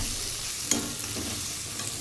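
Tomatoes, salt and potato sizzle steadily in a pan for a Bengali chicken curry, a soft, constant frying hiss broken by a single spatula scrape just under a second in.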